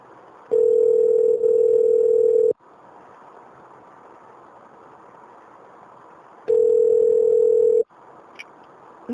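Telephone dial tone during a call, a steady loud hum sounding in two long bursts of about two and seven-tenths seconds, separated by quieter line noise with no talking.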